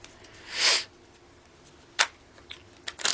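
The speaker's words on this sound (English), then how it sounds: "One more shuffle." Tarot cards shuffled by hand in a few quick, crisp riffles: one longer burst, then several shorter snaps close to the mic.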